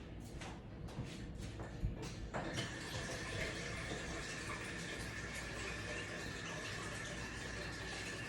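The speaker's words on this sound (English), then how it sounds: "I'm gonna go to the sink and get the filter water and fill it up with the remaining" A sink tap runs steadily, filling a pot with filtered water, a continuous rushing stream that starts after a few faint clunks and carries on evenly to the end.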